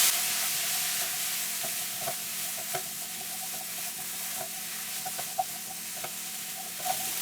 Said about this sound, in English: we're going to add in our drained eggplant. And toss it to mix well.